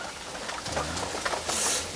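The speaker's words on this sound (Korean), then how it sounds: "빗소리 들리시죠?" Steady rain falls with a dense hiss and scattered patter of drops, fairly faint, with a low rumble underneath.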